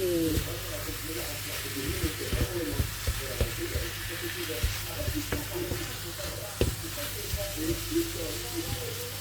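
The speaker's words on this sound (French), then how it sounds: "on mélange tout ça. Et on laisse cuire bien la viande hachée." Minced meat mixed with parsley fries and is stirred in a pan, a steady sizzle broken by repeated spatula scrapes and knocks at an uneven rhythm, close and moderately loud.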